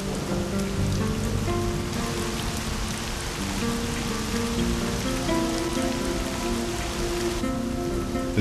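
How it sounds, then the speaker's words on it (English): Monsoon rain falls on a desert oasis in Australia, a dense, steady patter of drops on surfaces, loud and close, continuing without pause alongside a soft musical backing. "In the desert oasis, the monsoon rains are a trickle at first."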